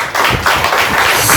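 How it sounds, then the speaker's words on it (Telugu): Congregation clapping hands together during a Telugu–Kannada Sunday healing worship service, a steady rhythmic run of dense, loud claps filling the whole stretch without pause. "ఒకసారి చప్పట్లు కొడదాం"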